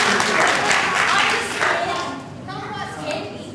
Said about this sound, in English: Everyone give Mr. Tom a clap